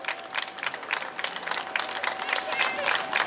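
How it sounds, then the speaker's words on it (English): A crowd at the finish line of a 10k race claps for a runner coming in, with steady, moderately loud applause mixed with scattered cheers and an announcer talking over it. "Give her a big clap."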